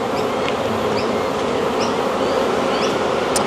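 Dense, steady buzzing of many honeybees around an open beehive, close and loud, a continuous drone with occasional bees whizzing past, no talking.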